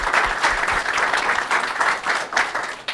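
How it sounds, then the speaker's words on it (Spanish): A crowd applauds at the close of a Spanish-language talk on industrial ammonia refrigeration for frozen food exports, dense continuous clapping swelling and fading in waves, fairly loud and close. "Un fuerte aplauso."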